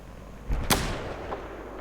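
An explosion in Battlefield 4: a sharp, cracking blast near the start, preceded by a small pop and followed by a faint later pop, fairly quiet over low ambient game noise.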